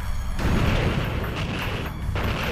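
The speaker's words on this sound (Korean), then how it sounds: "만주벌에 울려 퍼진 7발의 총성." Gunfire from a documentary reenactment of a politician being shot as he passes a welcoming crowd at a Manchurian railway station. Dense, booming bursts rise and fall over steady rumbling noise, with no voices.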